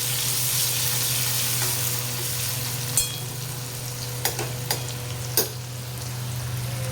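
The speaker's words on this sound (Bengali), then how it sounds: "পেঁয়াজটা একটু ভাজা ভাজা হোক" Onions frying in a pan with spices give a steady, close sizzle throughout, with a few sharp clinks and scrapes of stirring breaking through.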